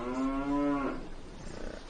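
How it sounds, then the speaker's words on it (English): A cow gives a single loud, drawn-out moo close by, its tone steady and rich, then fading into quiet outdoor background, in a documentary about traditional agriculture and soil. "The sacred cow"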